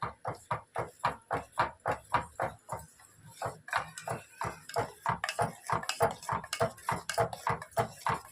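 A spoon scraping steadily against a pot, stirring a mixture as it is poured into milk for fruit custard, with quick regular clinks repeating at an even pace, loud and close, and no talking.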